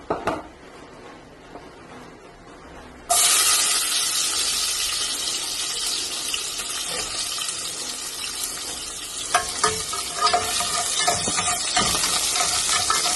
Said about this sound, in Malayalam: അതിലേക്ക് നമുക്ക് കുറച്ച് ചെറിയ ഉള്ളി ഇട്ട് വെക്കാം.